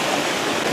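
A hidden waterfall in Canta Obrajillo pours in a steady, dense rush of water, loud and continuous throughout the short moment.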